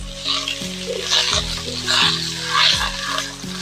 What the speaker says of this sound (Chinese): 我们呢炒酸菜呢，把它这个水分呢逼干